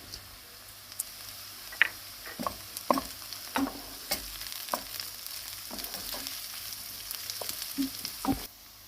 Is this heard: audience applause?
no